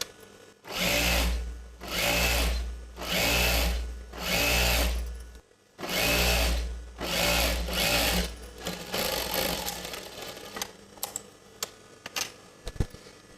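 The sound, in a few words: sewing machine double stitching a pant seam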